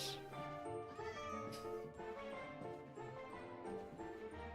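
Cats meowing in Minecraft on an animal farm, several tonal mews overlapping a constant layer of background game music, all fairly quiet.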